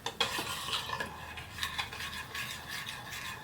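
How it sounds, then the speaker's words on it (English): A spoon stirs seafood white sauce in a pot on the stove, giving soft, irregular scraping and clinking strokes that stay quiet and close, with faint background hiss and no talk. "Let me just increase the temperature. And we just keep on stirring."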